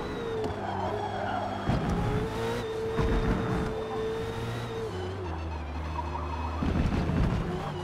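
Race car engine in a racing video game, steady droning with pitch shifts as the car brakes and takes two S-bends, continuous and loud throughout with no talking.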